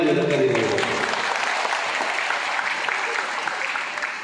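Applause fills a school award ceremony hall, a dense crowd of hands clapping steadily throughout and slowly fading, with a voice audible briefly at the start.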